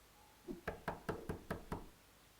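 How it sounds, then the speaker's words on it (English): Knocking on a front door in a visual novel game: a run of six firm, evenly spaced knocks, close and clear, with nothing else around them. "There immediately came a banging on the front door."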